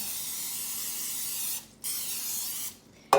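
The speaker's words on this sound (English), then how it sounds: "spray our loaf pan, and this needs a really good coating of cooking spray" Two long hissing sprays of cooking spray from a can onto a loaf pan, close by, with a short break between them, followed by a small clunk.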